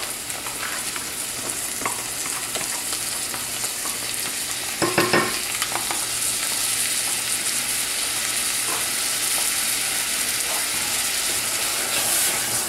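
Crushed tomatoes go into a pot of cooked meat for Sicilian arancini, a steady sizzle with soft stirring and scraping, and a brief louder clatter partway through.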